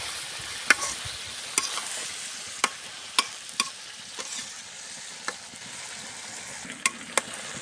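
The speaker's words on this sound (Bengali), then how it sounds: "আবার ভালো করে নেড়ে দেব। তো কপি, বেগুন, সবজি সকাল ভোরে রান্না করা হচ্ছে।" Cauliflower and eggplant frying in a pan for an early-morning meal, a low continuous sizzle broken by sharp, scattered spatula clicks and scrapes every second or so, close and unaccompanied by speech.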